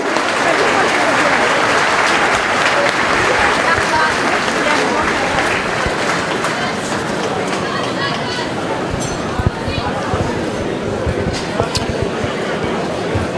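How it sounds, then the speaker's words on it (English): A crowd applauds the mayor before a county senior hurling final between Trim and Ratoath in Meath, sustained dense clapping throughout, loud and full, with faint crowd murmur beneath. "Please let's hear a big happy round of applause for the Mayor and me"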